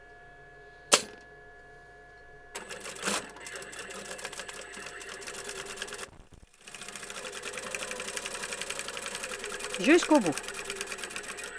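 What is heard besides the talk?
sewing machine stitching fabric along a line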